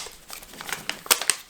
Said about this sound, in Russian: давайте я высыплю все пакетики